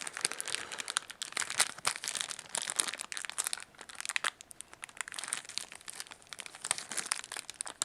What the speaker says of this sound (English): So this plastic is actually being quite tough with me today.